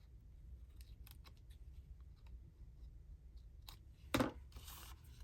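Scissors trim paper ephemera during a crafting session, giving a few soft, close snips and paper rustles over a quiet background, ending with one sharper crisp cut.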